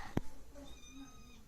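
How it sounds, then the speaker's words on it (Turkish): A single short, soft cat meow close by, followed by faint background noise. "Hala miyavlıyor, şu miyavlıyor"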